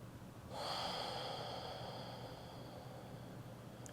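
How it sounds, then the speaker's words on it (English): Slow breath during a quiet guided meditation: a single long, soft airy inhale or exhale swells in after a brief hush and holds steady, close and gentle, with no talking. "simply notice the breath as it flows in and out"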